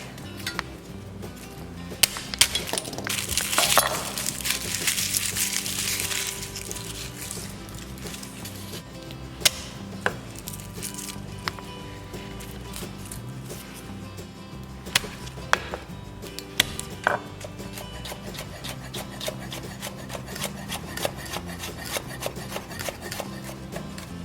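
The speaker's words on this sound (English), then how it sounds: "now I'm going to mince my garlic" A knife mincing garlic on a cutting board taps out a long run of quick, sharp, uneven chops, close and steady, with occasional louder knocks and no talking.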